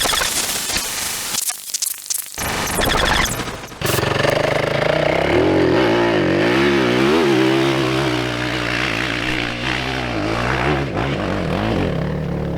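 A Yamaha WR enduro dirt bike engine revs hard on an off-road hill climb, loud and close, the pitch rising and falling with throttle blips after a brief dip, buzzing continuously throughout.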